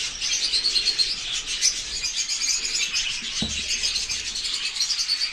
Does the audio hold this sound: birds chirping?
yes